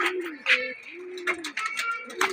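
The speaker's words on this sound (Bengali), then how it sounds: "এই যে বাচ্চাগুলো কবুতরগুলো নামছে।" Domestic pigeons coo in soft, repeated rolling calls close by in a loft, several birds overlapping with short gaps between phrases.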